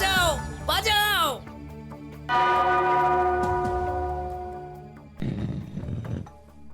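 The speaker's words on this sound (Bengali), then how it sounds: "ওই ঘন্টাটা বাজাও, বাজাও।" A bell rings in a Gopal Bhar cartoon episode, a sustained tolling tone that swells and slowly fades, between bursts of animated character voices and a brief roar-like shout.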